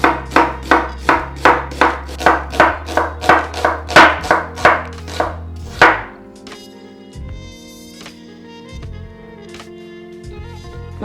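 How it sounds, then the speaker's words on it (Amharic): Onions being chopped with a knife on a board for an Ethiopian peanut-butter shiro stew, about a dozen crisp, evenly spaced thunks up close, then a short ringing clatter and quiet kitchen sounds. "ሽንኩርታችንን እንከትፋለን።"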